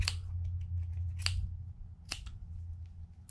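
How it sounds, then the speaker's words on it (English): Scissors snipping through yarn while making pom pom earrings: a few sharp, close cuts in an irregular rhythm over a steady low background hum. "So I just get the scissors right underneath there."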